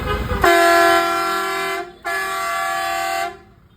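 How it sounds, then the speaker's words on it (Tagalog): Two loud, blaring blasts from a Marco Xtreme Blast air horn fitted to a Toyota Tamaraw Hilux sound up close, the first about one and a half seconds long, the second slightly longer. "Marco truck horn, extreme blast"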